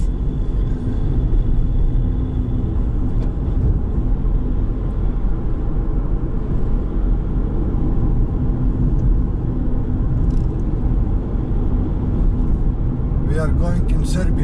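A car travels through an area near Belgrade, Serbia, producing a steady, loud, low road rumble and engine drone that runs throughout, with faint clicks near the end.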